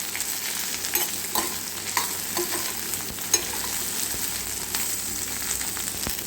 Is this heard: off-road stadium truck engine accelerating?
no